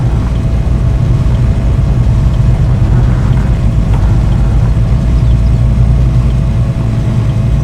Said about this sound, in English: Second engine started.